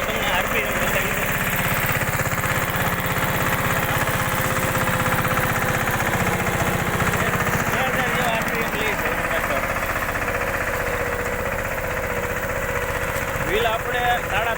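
A Massey Ferguson 5118 tractor engine runs at a constant loud, close rumble with a steady mechanical drone, and a voice talks over it.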